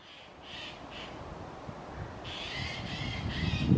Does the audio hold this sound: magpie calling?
yes